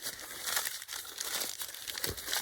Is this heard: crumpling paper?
yes